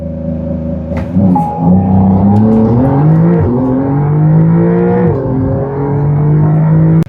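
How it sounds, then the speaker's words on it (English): A 2021 Porsche 911 Carrera 4S revs loudly and close up on launch control, its engine note climbing and dropping in pitch as it holds revs and then pulls away hard. "I'm gonna do launch control one more time"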